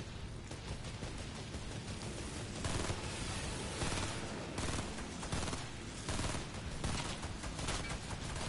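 Fortnite burst assault rifle fire echoes through a busy squads match as a dense, loud barrage of rapid shots and clattering gunfire that continues without letup and has no talking.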